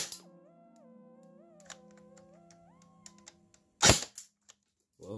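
Airsoft P90 fired on semi-auto through a chronograph, with one sharp, loud report standing out after a stretch of quiet electronic beeps and tones.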